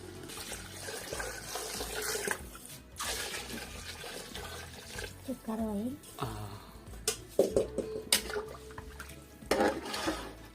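Water splashes and pours into a metal pot of nearly cooked chicken curry amid clattering cookware, with a voice speaking intermittently over the kitchen noise.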